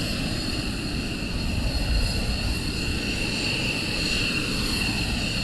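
Military jets fly near RAF Lakenheath, heard as a continuous distant engine roar with a steady high whine over a broad low rumble. The sound holds at a fairly faint level throughout, with no talking.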